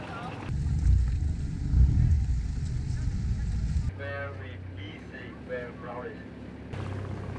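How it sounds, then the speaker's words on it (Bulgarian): A shaded motorboat on the Mekong Delta in Vietnam gives a loud, steady engine and water rumble, with people talking over it and then a quieter stretch with voices. "Качихме се на малко по-голяма лодка, сенчеста, моторна."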